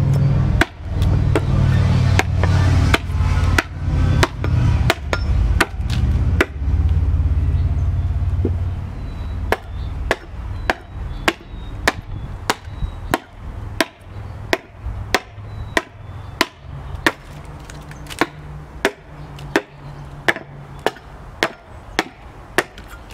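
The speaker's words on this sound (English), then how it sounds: "Now that hatchet is coming more snug to the panel, rather than like that to score it." A hatchet hews and bevels a wooden panel in sharp, irregular chops that come alone and close up, with a low rumble under the early strokes before a steady run of crisp strikes.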